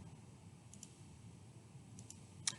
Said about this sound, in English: I'm just double clicking to show you the